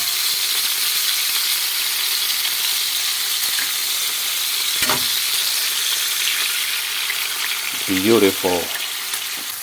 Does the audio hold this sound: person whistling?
no